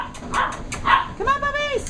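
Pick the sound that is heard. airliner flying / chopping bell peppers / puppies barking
puppies barking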